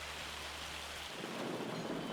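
Rain and thunder in the farming game Farming Simulator 25: a dense, steady hiss of falling rain over a low rumbling thunder roll that fades midway, fairly faint and without voices.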